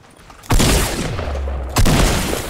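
Automatic weapon fire in Fortnite, two dense loud bursts of rapid shots, the first starting abruptly and a second following about a second later, without talk.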